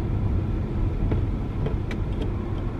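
Steady low road rumble from inside a moving car, continuous and moderately loud with no speech.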